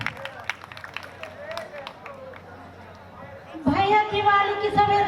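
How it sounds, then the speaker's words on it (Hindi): Scattered claps build into applause from an audience at a Hindi poetry gathering (kavi sammelan) for Diwali, with crowd chatter, before a tonal voice or music takes over. "तो आपकी जोरदार तालियों के बीच में बुलाना चाहूंगी राधिका बलद्वाज जी को।"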